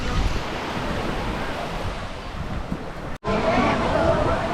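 Waves wash onto a beach in Guimaras, a steady surf rush mixed with wind buffeting the microphone, broken by a brief dropout near the end.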